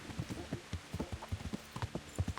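Horse hooves in Kingdom Come: Deliverance clip-clop in a steady walking rhythm, close and distinct, with repeated hoof strikes over a faint background.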